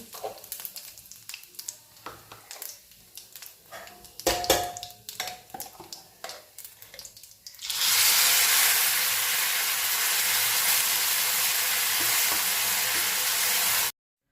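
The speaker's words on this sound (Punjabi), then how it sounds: "ਇੱਧਰ ਜੀ ਆਪਣਾ ਤੜਕਾ ਲੱਗਣਾ ਹੋ ਗਿਆ ਜੀ ਸ਼ੁਰੂ" Spices for a tadka hit hot oil in a steel frying pan with a sudden loud, steady sizzling hiss that starts partway through and holds until it cuts off, after quieter kitchen clatter and faint talk.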